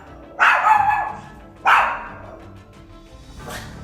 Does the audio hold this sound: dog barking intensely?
yes